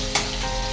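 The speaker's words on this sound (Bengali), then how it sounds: "এইদিকে তেল গরম করে তেলের মধ্যে উচ্ছে আর আলু দিয়ে দিলাম।" Bitter gourd and potato pieces fry in hot oil, a short steady sizzle with one brief louder burst near the start as the vegetables hit the pan.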